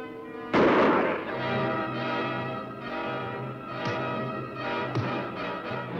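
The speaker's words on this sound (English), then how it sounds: "No, I will fire the first shot." A single loud gunshot from a Western-era firearm cracks out near the start and rings into a long reverberant tail, followed by a couple of fainter knocks.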